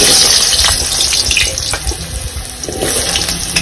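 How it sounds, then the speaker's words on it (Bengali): Potatoes frying in hot oil in a kadai, a loud, steady sizzling hiss dotted with sharp crackles and pops throughout, with no talking. "এবার আলু ভাজার জন্য তেলটাকে গরম করে নিয়েছি, আলুটাকে দিয়ে দিব।"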